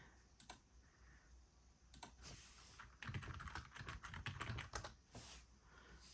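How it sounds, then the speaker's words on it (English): Fast clattering keystrokes on a computer keyboard, typed awkwardly sideways, come in irregular bursts up close with short pauses between runs, in a quiet room. "I'm typing sideways because I have the camera in front of me"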